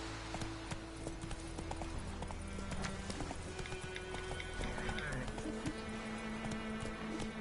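Roach the horse gallops at a steady clip-clop rhythm of hooves in The Witcher 3, with the game's music and ambience underneath and a few spoken lines over it.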